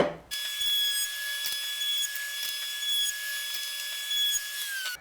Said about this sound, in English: All right, now I can chamfer the edges.